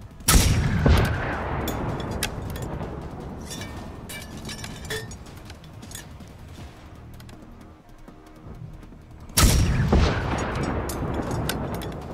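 Gunfire from a weapon in the video game Generation Zero: two loud, sharp shots about nine seconds apart, each with a booming tail, over a low, rumbling game ambience.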